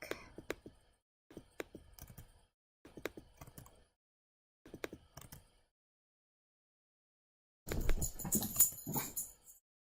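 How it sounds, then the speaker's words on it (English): A dog barks angrily at a cat, several short bursts separated by pauses, followed by a louder, noisier flurry near the end. "That was my dog, if you could hear that."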